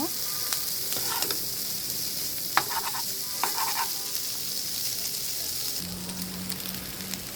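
Boiled noodles fry in hot oil in a pan with a steady loud sizzle, broken by occasional scraping and stirring knocks and a brief tonal hum near the end.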